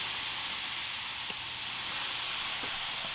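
Deer tenderloin searing in a pan while being basted, giving a steady, close, bright sizzle and hiss with a few small pops and spatters throughout, no talking.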